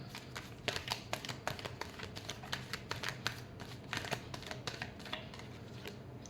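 A tarot deck is shuffled in a steady run of quick, soft riffling taps and flicks, quiet and close, continuing for several seconds with no talk.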